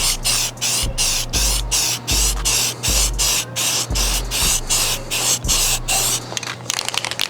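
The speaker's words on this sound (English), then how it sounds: "we're gonna go ahead and spray the other half" A spray paint rattle can coats a rifle in a run of steady hissing bursts, each lasting about half a second with brief pauses between, loud and close.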